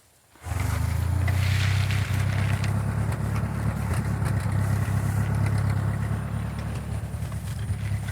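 A small tractor engine starts up abruptly and runs steadily, a loud, close, low idling rumble holding even throughout with no talk over it.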